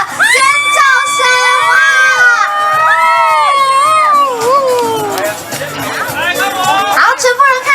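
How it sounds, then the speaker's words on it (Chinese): Fans scream and cheer loudly at an outdoor road-safety promotional concert, high-pitched shrieks rising and falling across several seconds, then breaking into scattered crowd chatter. "各位粉丝朋友们，热情的尖叫声！"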